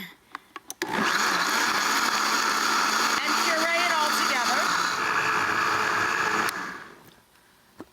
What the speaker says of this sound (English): now we have our reconstituted mix of chili peppers sitting in our blender or food processor